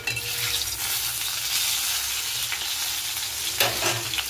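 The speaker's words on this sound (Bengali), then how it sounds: "আগে এটাকে ভালো করে কষিয়ে তারপরে জিরের গুঁড়োটা দেবো" Steady loud sizzling and frying from a pan where cumin is sautéed for a fish and potato curry, with occasional stirring scrapes, close and continuous.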